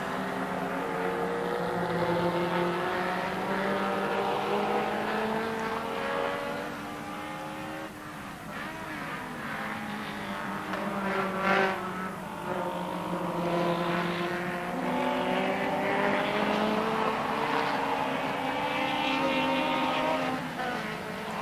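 Touring race cars, including an Alfa 75 Turbo, racing at the Estoril circuit in 1987, with several engines droning and rising and falling in pitch as cars pass in the middle distance over a continuous field of motor noise.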